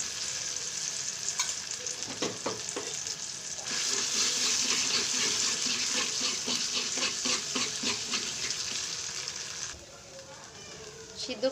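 Boiled taro leaves being poured into a pan for taro leaf bhorta, a steady sizzling, splashing wash of sound up close, ending with a softer scrape.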